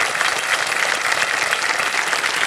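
Continuous applause from the KBC Season 16 studio audience rewarding a contestant's winnings, a thick, even wash of many hands clapping at full volume.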